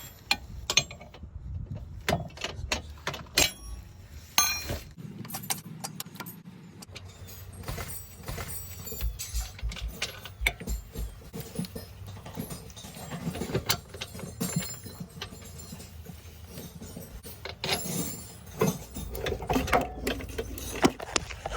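A wrench loosens the adjustable nut and bolt on a Cadillac XTS rear control arm, with irregular metallic clicks, ratcheting and clanks close by, steady throughout with no talking.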